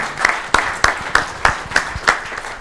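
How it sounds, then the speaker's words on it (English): A conference audience gives a short, sparse round of applause, distinct individual claps spaced evenly across a few seconds close to the microphone. "We have a round of applause."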